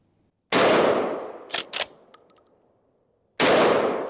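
An Escort Bulltac 12 gauge shotgun fires 3-inch shells: two loud, sharp blasts about three seconds apart, the first trailing into a decaying echo with metallic clanks of the action being cycled in between.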